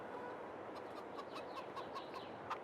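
Hens in Farming Simulator 22 cluck in a quick series of short, faint calls over a steady background hiss.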